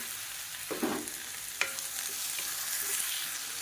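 Chopped tomatoes, garlic and curry leaves fry in a pan for tomato chutney, with a faint steady sizzle broken by a couple of scraping stirs of a spoon.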